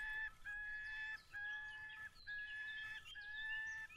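A repeating bird call from the Rocky Lake map in the fishing game Fishing Planet: clear, loud whistled notes in steady phrases, roughly one every second, with no talk over them.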